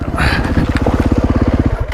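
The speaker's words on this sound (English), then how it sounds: "just killed the engine" A fully loaded adventure motorcycle engine chugs in a rapid low pulsing rhythm that slows and sputters as it stalls on a descent, loud and close, with talk over it.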